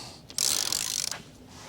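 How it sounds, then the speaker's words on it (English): A Harbor Freight wrench breaks loose a 15 mm injector nozzle from a VW TDI 1.9L held in a vise, a short loud grinding, ratcheting crack of metal releasing, lasting under a second in a quiet workshop. "we're going to take our Harbor Freight Special wrench, and then we're just going to break this"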